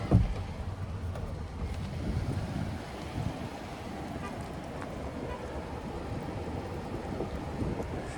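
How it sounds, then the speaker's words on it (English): Wind buffeting a microphone outdoors beside a 2025 Jeep Gladiator Sport Black Widow, a constant low rumble with uneven gusts and a sharp thump at the start, moderately loud throughout. "If you can even hear me through this wind."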